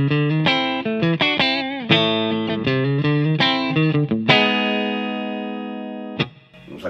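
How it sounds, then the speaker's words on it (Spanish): Clean electric guitar tone played straight, with no TWA SH9 distortion pedal engaged: a run of distinct plucked notes and chords, then one long ringing chord that sustains and fades, close and alone with no talk. "El sonido limpio es este."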